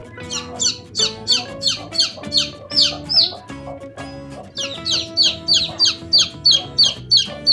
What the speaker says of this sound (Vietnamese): Gà con.